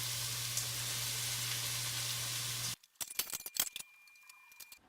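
Vegetables for Irish stew start cooking in a pot that is too small: steady loud sizzling that cuts off abruptly, then scattered stirring clatter and crackles.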